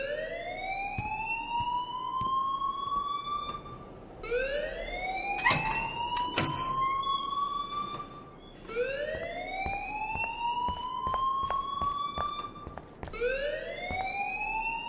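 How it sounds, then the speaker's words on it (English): An electronic alarm rings in the video game Life is Strange, a repeating rising wail in long sweeps with short pauses between them, alone and loud, with a few sharp clicks scattered through it. "please turn off that alarm since that's your job"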